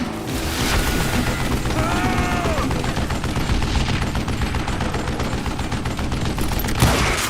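Rapid, continuous gunfire in the Western shooter Call of Juarez: Gunslinger, dense overlapping shots and booms filling the whole stretch, with a brief whistling tone partway through.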